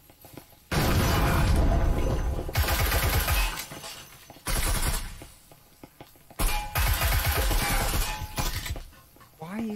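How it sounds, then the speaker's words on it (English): Video game gunfire comes in long, loud sustained bursts, each lasting about two seconds, separated by brief quieter gaps, with crashing, shattering impacts mixed into the barrage. "Okay, start shooting."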